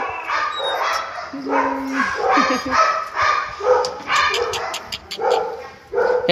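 A male Belgian Malinois puppy barks and yips repeatedly at close range, mixed with whimpers and excited high yelps, while people talk nearby.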